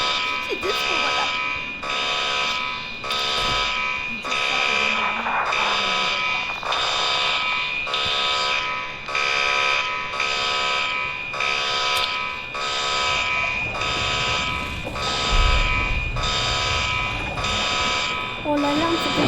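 A loud electronic alarm beeps in a steady, repeating rhythm throughout, with faint background noise underneath.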